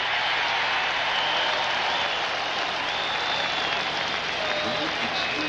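A stadium crowd roars and applauds at a 1986 Falcons at Patriots American football game after an open-field tackle, a dense sustained wash of cheering while a commentator talks over it.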